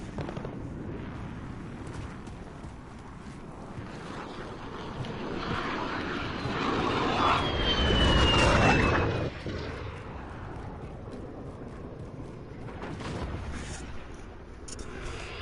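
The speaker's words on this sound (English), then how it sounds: "Enemy VTOL jet in the AO." An enemy VTOL jet in a Modern Warfare game roars past overhead, its engine swelling to a peak and fading over a dense bed of distant gunfire and battle rumble.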